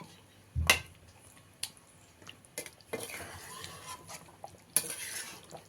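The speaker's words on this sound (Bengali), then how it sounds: "এইভাবে ভালো করে একবার মিশিয়ে নিলেই" Chicken curry with potatoes and chopped coriander leaves being stirred in a pot: a few sharp metal spoon clinks and scrapes against the pot, spaced irregularly, with softer stirring and light sizzling between, fairly close.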